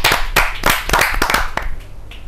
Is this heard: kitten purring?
no